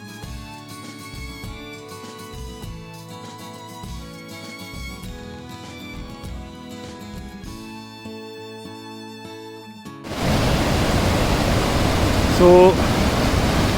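Mountain stream water rushing down from a lake on a trek route, a steady broadband roar that comes in partway through after earlier music, with a voice speaking over it.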